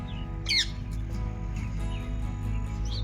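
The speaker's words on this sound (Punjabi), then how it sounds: "ਤੋਤੇ ਆ ਗਏ ਓਏ ਸਾਡੇ ਉਹ ਤੋਤਾ ਬੋਲਣ ਦਿਆ" A few sharp, high parrot squawks and chirps, one louder near the start, over a low steady engine-like hum.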